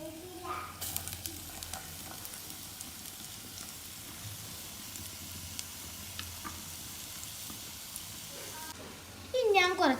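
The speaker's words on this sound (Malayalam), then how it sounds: "നമുക്ക് ഈ മാങ്ങഞ്ചി ഒന്ന് ഇട്ട് കൊടുക്കാം" Mango ginger pieces sizzle steadily in hot oil in a pan while a pickle is being made, a close continuous frying hiss, followed at the end by a short burst of louder spattering and stirring.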